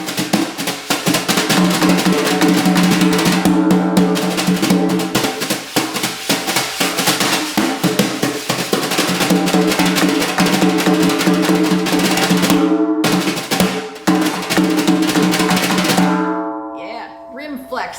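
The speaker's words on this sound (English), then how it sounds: "That's where you hit the handle into the rim of the drum and let the fans vibrate into the head" A drum set groove played with brushes using the rim flex stroke, with the handle striking the drum rim so the bristle fans vibrate against the head: a dense, loud, continuous brushed rhythm that carries for about sixteen seconds before dying away.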